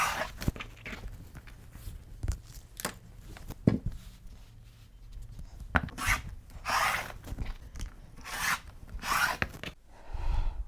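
A rotary cutter slicing strips of quilting fabric against a ruler on a cutting mat gives a series of close, dry rasping strokes with short pauses between cuts, and no talking.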